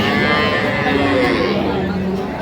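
A cow with her calf lows at a busy rural cattle market, the Ambari haat in Dinajpur, with the moo rising over constant crowd chatter nearby.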